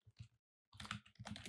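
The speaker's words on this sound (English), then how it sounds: "I'm going to type in the box here" Bursts of computer keyboard typing, close and clear, entering a domain name into a search box: a short flurry, a brief pause, then two longer runs of rapid key clicks with no talking.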